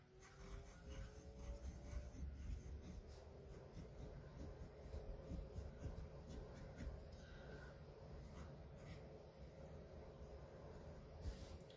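A Jinhao 100 fountain pen with a medium nib scratches faintly across paper in a continuous soft rasping texture, quiet and steady with no voices.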